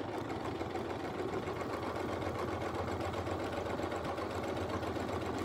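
A quilting sewing machine sews steadily along the edge of a Westalee Curly Q ruler template, a soft continuous low mechanical hum with fine rapid stitch pulses throughout.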